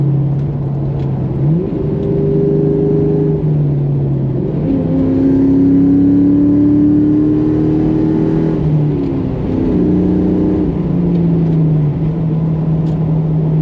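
A 27-year-old Ford Mustang GT drones loudly up close, its engine note stepping up and down through downshifts and revs in a steady, throaty run with no talk.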